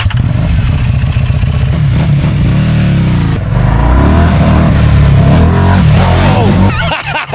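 A 2004 Harley-Davidson Softail Deuce motorcycle engine revving and accelerating through the gears, a loud, steady roar with rising pitch sweeps close by, while people talk over it.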